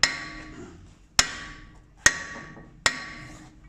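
Claw hammer striking the area around a brake disc on a Land Rover Discovery 2 hub carrier: four sharp metallic clanks spaced under a second apart, each ringing briefly before decaying, close and fairly loud.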